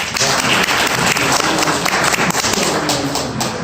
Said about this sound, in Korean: 다시 한번 교사님께 감사의 박수를 한번 부탁드리겠습니다